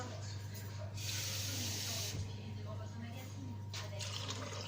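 Water pours into the bowl of a Compact Cook Pro multicooker while the bowl is being cleaned, a steady splashing rush that dips and swells, close-up over a constant low hum.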